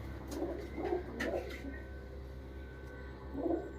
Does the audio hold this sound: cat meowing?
no